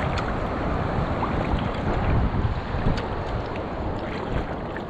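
Wind sweeping across a reef shore at sunset, a steady broadband rush with buffeting on the microphone and faint lapping of rippled water, continuous and fairly loud with no voices.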